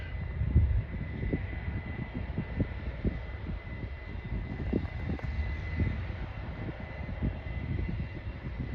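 Farm tractor pulling a loaded grain cart away during harvest, a steady low engine drone with rhythmic thumps and rumbles held at a moderate, even level throughout, no talking.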